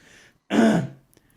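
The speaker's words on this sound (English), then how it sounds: "I'm gonna clear my throat" A single throat clearing, close and fairly loud, lasting about half a second, with a faint breath before it and quiet afterward.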